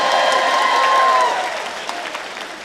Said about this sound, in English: if you're going to clap for that, let's make it 75